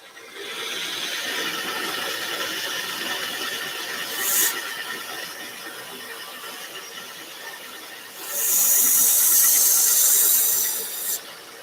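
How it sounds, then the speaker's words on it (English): A pruner's bevel is ground on a sharpening machine with dust collection running, giving a steady grinding hiss that swells into two louder, brighter bursts of metal contact, one brief and one lasting several seconds. "cutting the bevel on this pruner"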